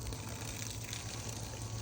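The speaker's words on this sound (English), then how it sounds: "Now this is all the slum gum water coming out" Dirty slum gum water runs out of a beeswax filter bag in a steady, rushing trickle that stays even and fairly soft throughout, with no pauses.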